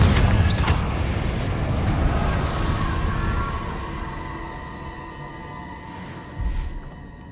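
In Hogwarts Legacy, a Confringo blasting spell bursts with a deep boom and a rushing rumble that slowly fades, and a second soft thump comes near the end.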